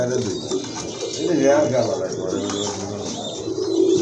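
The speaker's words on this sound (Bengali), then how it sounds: "এক জোড়া রাজগোল্লা কবুতর অনেক বড় সাইজের কবুতর" A pair of large Rajgolla pigeons cooing at close range, low rolling coos repeating under a voice talking over them.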